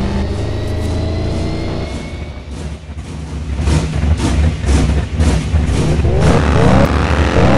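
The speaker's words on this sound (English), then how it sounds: "Got a dragster right here." A drag-racing dragster engine in Doorslammers 2 idles with a rough low rumble, then revs and builds into a loud rising roar with gear-like surges, sounding up close with no other sounds.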